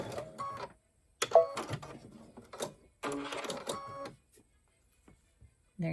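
A home sewing machine runs a quick topstitch along a zipper pouch in short bursts of rapid mechanical stitching, separated by pauses, close and fairly soft.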